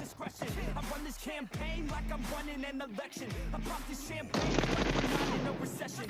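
Automatic gunfire from the PUBG Mobile battle royale game rattles in rapid repeated bursts, with a voice talking over much of it, and a denser, louder volley erupts near the end.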